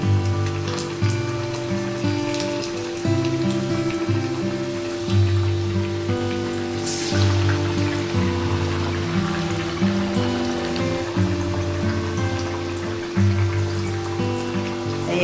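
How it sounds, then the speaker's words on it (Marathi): Dal vadas frying in hot oil give a steady sizzle that runs throughout, partly masked by louder background music with sustained tones. "हाताला लावू नका कारण आपण गरम तेलामध्ये सोडणार आहोत."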